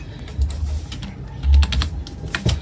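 Computer keyboard keys clack in light, irregular taps, including a firm press of the E key, close and dry with no talking over them.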